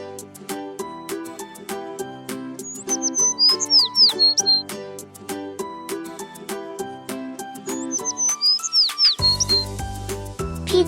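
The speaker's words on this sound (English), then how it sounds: "sparrow," A sparrow chirps in quick, high bursts of short notes, repeating in two clusters over a steady backing music track.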